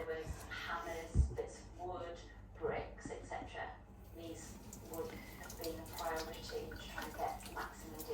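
Water trickles and splashes continuously at a low level, with a faint gurgle, up close and quiet.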